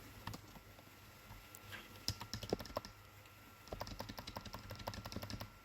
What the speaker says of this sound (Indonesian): Maka kita ketik dulu kodenya